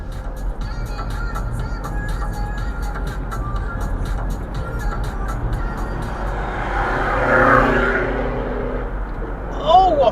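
A passing car's loud exhaust surges during an overtake on a UK road, a broad roar swelling near the end over steady cabin and road rumble, with voices talking throughout.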